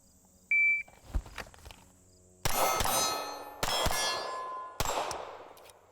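Pistol rounds strike torso steel targets about 15 to 20 yards away with sharp metallic clangs, three or four in separate bursts. Each hit rings on and decays after a quiet stretch with a few faint taps.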